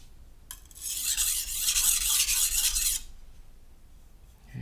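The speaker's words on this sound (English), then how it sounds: "a few passes on the stone really fast, and that will help remove the burr" A knife is drawn in quick, rapid passes across a Japanese natural Amakusa whetstone, making a close, hissing rasp that runs steadily for about two and a half seconds and then stops.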